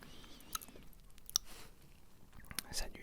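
Someone chews a sticky caramel Mars bar close to the mic, making faint wet, squeaky mouth sounds and soft bites in a quiet room.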